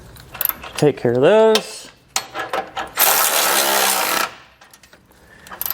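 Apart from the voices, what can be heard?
socket wrench removing tow hook bolts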